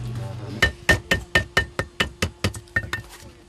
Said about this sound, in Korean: 조각을 붙인 후에 망치질이 계속되는데 강도가 꽤 세다